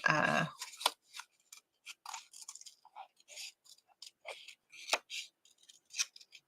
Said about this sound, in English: see if we can trim off most of this edge, the white.